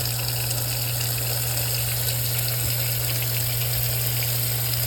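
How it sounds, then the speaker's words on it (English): Hot water with soap runs steadily into a container of oily trimmings and corners, a continuous gushing fill with a low pump-like hum underneath, close and constant with no talking. "I'll get some soap in there and some good hot water."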